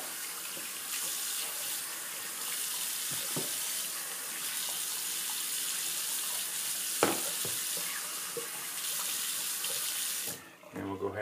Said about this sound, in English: we'll go ahead and just rinse the puck off